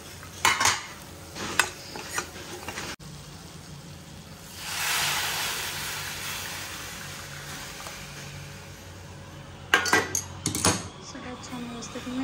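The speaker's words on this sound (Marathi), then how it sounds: "छान व्यवस्थित मिक्स करते" Amti dal being stirred and mixed in a pan on the gas, with a spoon scraping and clinking against the metal in short bursts around a soft sizzle, close by.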